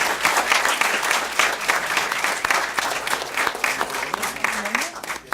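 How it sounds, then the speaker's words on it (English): Applause at a school district board meeting for a student of the month, full steady clapping from the room throughout, with a few voices faintly underneath. "let's give Jaylene another round of applause"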